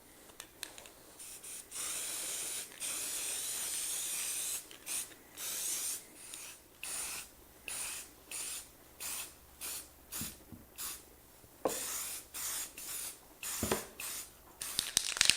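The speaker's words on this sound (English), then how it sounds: "So I'm just using some Rattle Can Rust-Oleum green." Green Rust-Oleum rattle can spray paint on a wooden 2x2 Christmas tree, a near, fairly quiet hiss in about a dozen short bursts, first longer sprays and then quick regular puffs.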